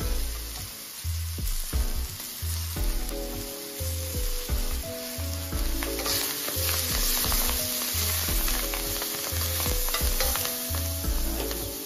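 Spinach seasoned with pepper and salt frying in oil in a pan, a constant close sizzle and crackle with the pan stirred, under background music.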